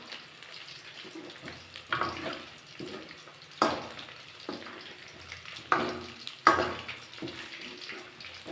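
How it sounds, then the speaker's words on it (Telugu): Chicken kebab pieces frying in hot oil, a soft continuous sizzle broken by sharp crackles and occasional clatter of stirring, close and fairly quiet. "బాగా వేగేదాకా వేపుకోవాలి సో ముక్కలు వేగిపోయినాయి"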